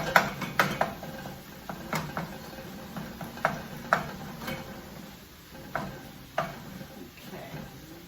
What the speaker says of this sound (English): So I'm just going to give it a good chop